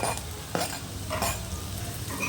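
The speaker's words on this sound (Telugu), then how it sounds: "రెడ్ కలర్ వచ్చినంత వరకు వేయించుకోవాలండి" Spices fry in a hot pan for egg curry, a steady close sizzle with scraping stir strokes of a spoon against the pan, no voices.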